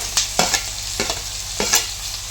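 Green chili, ginger and curry leaves frying for puri curry, with a steady soft sizzle broken by a few sharp crackles and pops at irregular moments, close and fairly loud.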